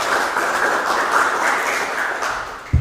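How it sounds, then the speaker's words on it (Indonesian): Classroom applause for a student named Rifki during a teaching-practice session, steady clapping from a room of students that holds evenly for nearly three seconds before a sharp thump at the end. "Tepuk tangan dulu untuk Rifki."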